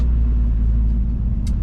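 Car pulling hard on a snowy road, a loud, close low engine rumble sustained throughout with a short hiss near the end.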